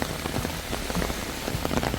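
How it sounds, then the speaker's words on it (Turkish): Heavy rain pours down steadily outdoors on a wet festival day in Germany, a dense continuous patter of drops striking the ground and nearby surfaces, close and unbroken with no voices. "Ama bayağı bir yağıyor."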